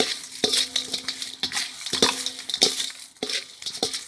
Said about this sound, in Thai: คนเลยค่ะ คนให้เข้ากัน